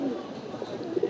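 Pigeons in a loft, some with watery eyes, give a short, soft, low cooing burr, close and brief.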